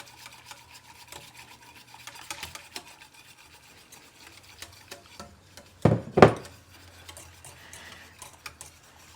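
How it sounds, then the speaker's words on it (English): Lavender ice cream custard being whisked in a pot, a soft scraping swirl under quiet room noise with two sharper clinks of the whisk against metal near the end. "we're going to actually put it back into our main mixture, slowly whisking it in."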